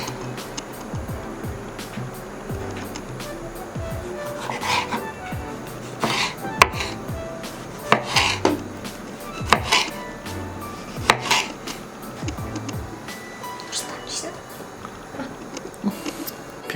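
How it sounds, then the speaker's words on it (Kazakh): Close-up knife chopping tomato on a cutting board for a sandwich: soft, irregular cuts that build into sharper, louder strikes in the middle and later part, with light clinks of kitchenware between them. "Енді помидор тураймыз."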